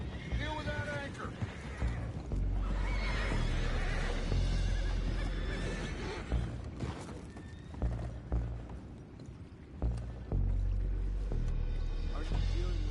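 Horses neigh and whinny in Red Dead Redemption 2, with hoof clatter and splashy ambient game sounds around them, and voices speaking intermittently over the scene.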